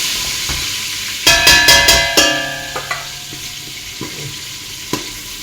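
Red peppers fry in hot oil with a steady hiss, while a burst of sharp, ringing metallic clinks from a utensil stirring the pan lands midway, followed by scattered pops and taps close by.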